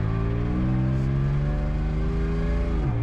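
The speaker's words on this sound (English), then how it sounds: "This obvious exhaust leak" A used Isuzu VehiCROSS with an exhaust leak revs loudly and steadily up close, a buzzy droning engine note with a raspy edge that holds and then drops as the throttle eases off.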